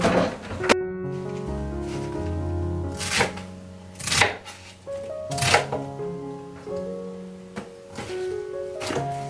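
Repeated knife chops on a board while making kimchi, sharp thunks spaced about a second apart, close by, with a tonal musical backdrop underneath.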